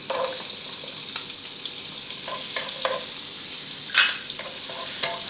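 Onions sizzle in melted butter over medium heat while they are stir-fried for a tomato spaghetti sauce. A steady close hiss runs throughout, broken by occasional spatula scrapes and one sharper sizzle burst near the end.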